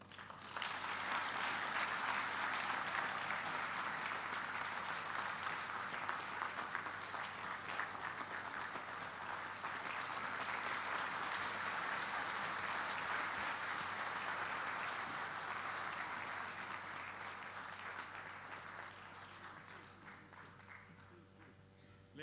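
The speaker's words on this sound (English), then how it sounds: "Ladies and gentlemen, let's continue to applaud" A conference audience applauds steadily after a speech on the African Union Commission bid, a broad, even patter of many hands that carries on for a long stretch and slowly thins toward the end.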